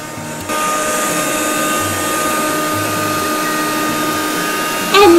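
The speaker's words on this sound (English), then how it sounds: "And I'll just vacuum the piano too. Get all the dog fur" A vacuum cleaner switches on and runs steadily, loud and close, as it sucks dog fur off a piano, with a whining hum that shifts slightly near the end.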